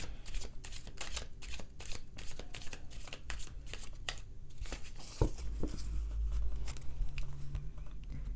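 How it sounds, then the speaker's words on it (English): Rapid, repeated riffling of tarot cards being shuffled, crisp papery bursts close by, with a brief soft knock partway through. "Looking at the cards as I shuffle."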